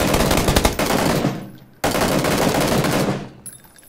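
Rapid automatic gunfire rings out in an online shooter game, two loud close bursts of dense repeated shots separated by a brief pause, each fading into a short tail.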